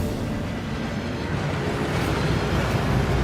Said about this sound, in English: That waterfall washes away all enchantments.